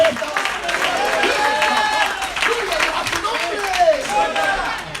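Church congregation clapping together, a steady dense wash of applause filling the room with a voice carrying over it and continuing throughout.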